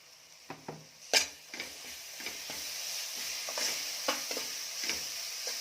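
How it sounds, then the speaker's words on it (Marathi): Ginger-garlic paste sautéing with masala in a pan for Kolhapuri mutton, a steady close sizzle broken by several sharp clicks and scrapes of a spoon stirring against the pan, with no talking. "थोडं मसाला परतल्यानंतर यामध्ये टाकायची आहे आलं लसूण पेस्ट"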